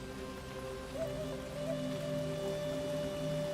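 Steady rainfall pours through a rainforest in the survival game Soulmask, a constant even hiss of drops with faint tonal ambience layered underneath, unbroken and without voices.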